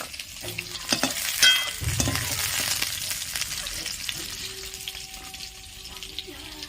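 Potatoes fry in hot oil in a wok, giving a steady sizzling hiss with stirring and a few light clinks near the start, heard up close.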